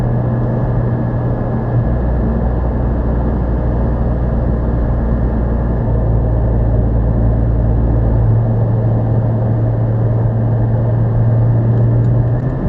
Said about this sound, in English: I think it's just a different tone of exhaust. It's like brrr, brrr. Here, take a listen.